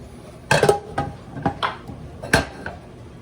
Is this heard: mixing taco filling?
yes